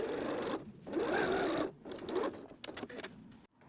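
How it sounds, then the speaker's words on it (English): Sewing machine stitching fabric with a 1/4 inch seam allowance, a steady loud whirring run that pauses briefly a few times and then restarts, with no voices. "We're going to sew this with a 1/4 inch seam allowance."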